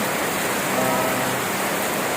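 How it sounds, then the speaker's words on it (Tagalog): Heavy rain pours steadily, a dense, even roar of falling water with no breaks and no voices. "Ngayon guys, malakas ang ulan ngayong hapon."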